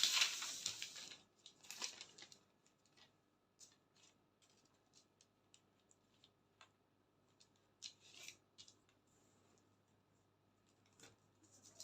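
Fabric for a bustier blouse with cape is cut with scissors, making an opening run of close crisp snipping and rubbing, then faint scattered snips and shuffles across a quiet background.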